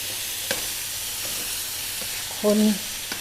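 Fresh bamboo shoots and shrimp stir-fry in oyster sauce in a wok, with a steady close sizzle broken by a few sharp utensil taps against the pan and a brief high tonal squeak near the end.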